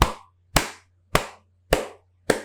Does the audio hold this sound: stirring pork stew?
no